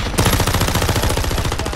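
Rapid automatic gunfire rattles in Call of Duty on Rebirth Island, a loud, close, continuous burst of evenly spaced shots lasting the whole moment with no talking.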